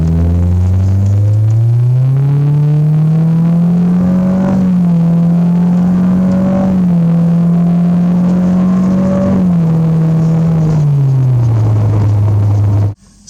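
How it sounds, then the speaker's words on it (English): A truck engine with its mufflers removed roars loudly in sport mode, revving up and holding a steady high drone before dropping back toward idle, close and unbroken for the whole stretch. "So I've decided it's too loud without the muffler."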